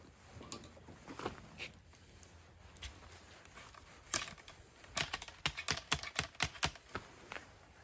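A wool patch is rammed down a muzzleloader barrel, making scattered light taps that build into a rapid run of sharp, close clicks and knocks, with no voices.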